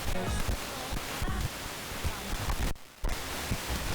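Radio static hisses loud and steady, a broad rushing noise with a few crackling bursts and one short dropout near the end.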